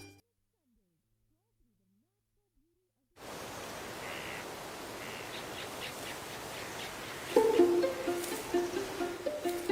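Native forest birds of Guam call faintly over a hissy forest background after a silent start, with a few louder, clearer calls near the end.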